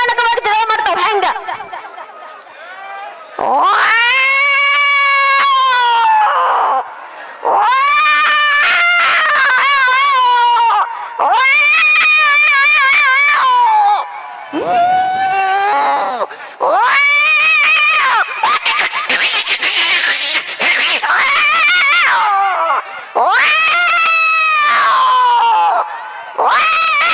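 A mimicry artist's voice imitates cats fighting at midnight: loud, drawn-out yowls and caterwauls in repeated wavering bursts with brief pauses, strong and close.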